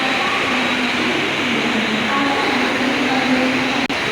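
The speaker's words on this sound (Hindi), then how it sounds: "तो अभी ये ट्रेन नेरुल से वापस थाने जाएगी" A Mumbai local train at Nerul station gives off a steady, loud rumble and hum at close range, unbroken throughout with a brief click near the end.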